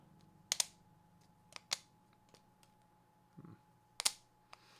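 Cycloid 2.1 keyboard with rubber stoppers, typed on quietly late at night. Scattered, sparse key clacks sound close and crisp, some as quick doubles, with silence between them.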